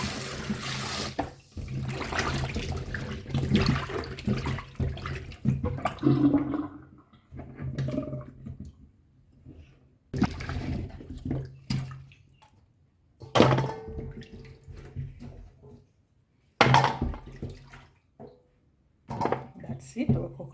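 Tap water running while coconut pieces are washed, splashing in uneven bursts with clunks and gaps between them, and a person talking over parts of it.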